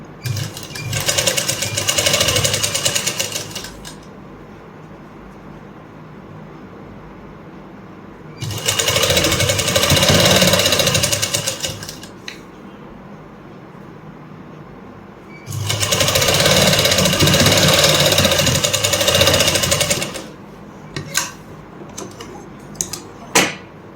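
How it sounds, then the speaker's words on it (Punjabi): A sewing machine stitches lace onto garment sleeves in three loud, close bursts of rapid whirring and clattering, with quiet pauses between runs. "ਜਿੱਥੇ ਜਿੱਥੇ ਸਲਾਈ ਲੱਗੀ ਹੋਈ ਲੈਸ ਦੀ ਉੱਥੇ ਉੱਥੇ ਆਪਾਂ ਸਲਾਈ ਦਾਂਗੇ"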